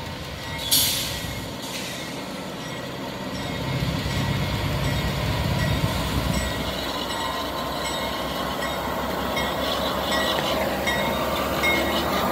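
A southbound CSX freight train rolls past in Aberdeen, North Carolina, its loud, steady rumble of wheels and cars filling the scene from start to finish with no talking.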